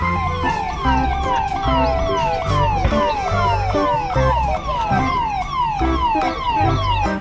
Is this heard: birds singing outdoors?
no